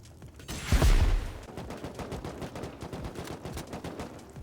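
Rust video game raid with gunfire and incendiary rockets: one loud blast-like burst, then a steady run of rapid gunshots under it, dense and continuous.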